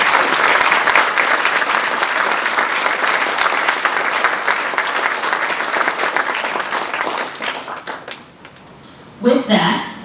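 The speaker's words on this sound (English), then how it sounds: "I think he deserves a round of applause this morning" Applause from an audience at a college building's grand reopening ceremony, steady dense clapping for about eight seconds that thins and fades out, followed by a brief voice at the end.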